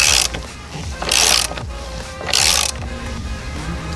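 A hand tool ratchets on the 24mm steering wheel nut of an Alfa Romeo Giulia or Stelvio, giving three short, loud clicking bursts close by, spaced about a second apart, with quieter mechanical clicks between them.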